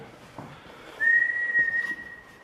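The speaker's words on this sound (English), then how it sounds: "That was a whistle. It was a whistle." A single sustained whistle sounds inside an old prison at night. It rises briefly and then holds a steady, clear tone for over a second above faint background noise, with no speech.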